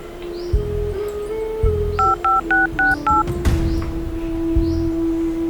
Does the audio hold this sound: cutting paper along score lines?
no